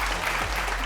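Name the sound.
applause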